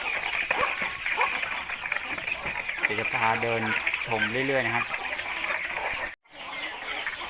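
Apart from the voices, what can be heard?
chickens about three months old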